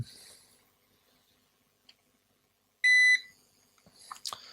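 A UPS inverter gives a short, piercing electronic beep once, loud and shrill, amid faint clicks and handling noise in a quiet space.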